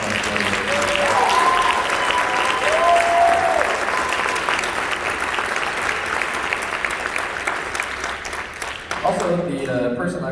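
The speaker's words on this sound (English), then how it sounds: "So can we all give Mr. Miller a round of applause?" Audience at a high school band spring concert gives sustained, loud applause with whoops and cheers rising over it, then a voice speaks as the clapping dies down.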